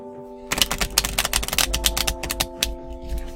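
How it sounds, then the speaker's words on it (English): A rapid flurry of crisp clicking and riffling, like cards being shuffled close by, over a faint steady background hum. "Currently shuffling cards right now."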